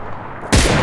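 Gunshot from an SKS rifle in the battle-royale game PUBG Lite: a single loud, close blast with a sharp onset and a sustained booming tail, following a quiet stretch of low background noise.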